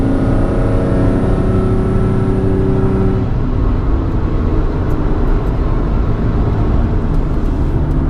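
Car engine pulling hard uphill on the Nürburgring in a racing video game, a loud continuous roar whose held harmonic tone drops off around three seconds in, leaving broadband engine and road noise.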